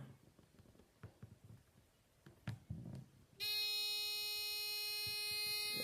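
After a few soft taps as a pin pierces a coaxial cable, a short-circuit warning alarm starts abruptly, a loud, steady, harmonic-rich electronic buzz that holds without a break.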